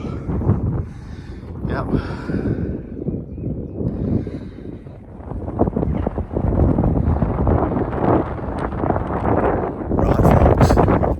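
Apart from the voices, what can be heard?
wind on hilltop above Thor's Cave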